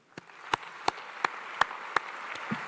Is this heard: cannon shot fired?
no